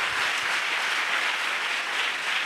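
A church congregation claps steadily together at a Pentecost service, a dense, continuous patter of many hands with no voices over it.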